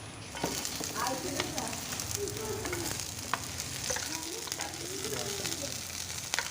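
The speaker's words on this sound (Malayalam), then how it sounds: "എണ്ണ ചൂടായി കഴിഞ്ഞാൽ പച്ചമുളക് ഇട്ട് കൊടുക്കാം." Green chillies frying in hot ghee for an egg dish, a constant close crackling sizzle with occasional light stirring scrapes and no speech.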